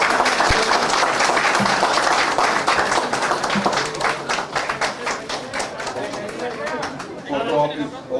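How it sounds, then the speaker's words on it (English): An audience claps at a Bangladesh-Canada friendship anniversary celebration, loud and close at first, then the clapping thins into scattered claps as chatter and talk take over. "Can we have a big round of applause?"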